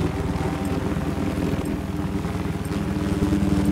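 Enemy helicopter in the video game Battlefield 4: a steady, loud rotor-and-engine drone with a fast pulsing throb. It runs unbroken for the whole stretch with no talk over it.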